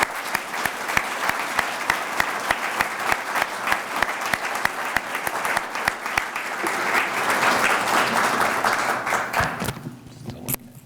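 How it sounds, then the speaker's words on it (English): Sustained applause fills a police swearing-in ceremony, loud and dense with crisp individual claps, swelling slightly before cutting off abruptly near the end into quiet room noise. "Round of applause, please"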